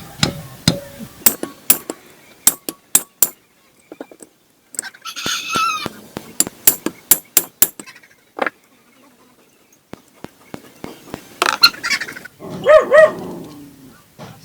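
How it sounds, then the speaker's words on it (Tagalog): An impact wrench removes the cylinder head bolts on a Kawasaki Fury 125 motorcycle, firing in short, sharp, loud bursts separated by pauses, close by, with a few brief voice-like sounds later. "So gamit ang impact wrench."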